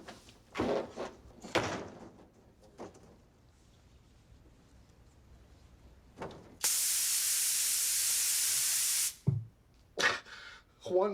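A spray booth sprays in one loud, steady hiss lasting about two and a half seconds, preceded and followed by scattered bumps, clicks and brief sharp noises.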